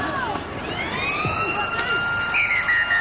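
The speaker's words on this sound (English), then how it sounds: "The siren signals the end of play." A full-time siren wails across a 1991 rugby league ground as Gold Coast play Easts in Round 10. It holds long and loud over crowd noise and commentary.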